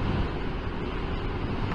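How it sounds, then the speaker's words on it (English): Strong Hurricane Dorian wind on St Thomas roars steadily, buffeting loudly and low with a constant rushing blast and no voices. "It's getting a little windy out there though."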